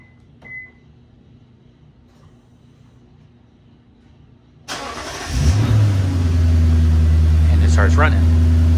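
A car engine remote-starts after the lock button is pressed three times: a faint click and quiet idle hum, then the starter cranks and the engine catches into a loud, steady nearby idle.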